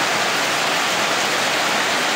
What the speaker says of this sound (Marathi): मे महिना संपला नाही तरी पाऊस बघा कोकणात किती पडतो आहे